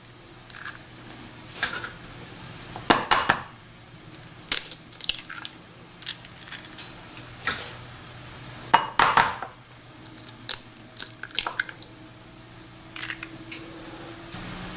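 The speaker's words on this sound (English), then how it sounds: "we're just going to crack our 4 eggs into this bowl" Eggs are cracked one after another against a hard edge, sharp crunchy taps and clinks in quiet surroundings, with small shell and bowl sounds between.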